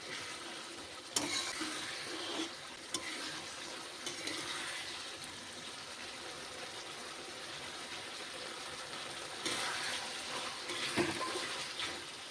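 Chili chicken gravy with turmeric sautéing gently in a pan, a faint low sizzle with soft scraping and a few sharp utensil knocks, heard alone without talk.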